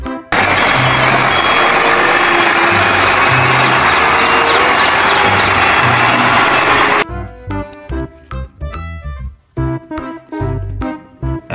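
A cement mixer truck's reversing beeps ring out over loud, steady engine rumble for about seven seconds, then give way to upbeat background music.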